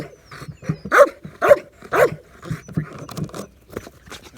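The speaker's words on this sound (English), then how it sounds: "I'm asking more and more and more barking, more activity, better cadence, better rhythm, better pitch" A dog in endurance barking training gives a steady run of loud, close barks, three strong evenly spaced ones followed by quicker, softer barks in a driving rhythm.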